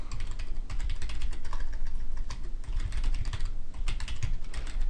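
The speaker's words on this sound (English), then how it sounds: "I'll first type in my name and then my email address." Rapid, steady typing on a computer keyboard while entering a name and email address, a dense run of close, crisp key clicks filling the whole stretch with no voices.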